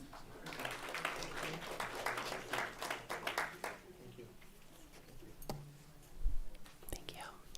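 A scattered round of clapping rises from attendees honoring veterans at a school board meeting, fairly distant and thin, with soft murmuring and a few sharp taps near the end.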